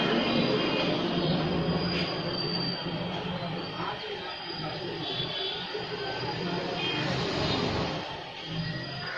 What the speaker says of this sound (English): Very smart MRT train of Jakarta.